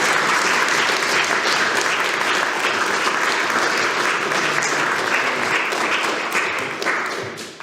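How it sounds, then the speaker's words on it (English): An audience gives a keynote speaker at Global Game Jam Graz 2018 a loud, dense round of applause that holds steady throughout and fades slightly at the end. "Let's say hello with a big round of applause."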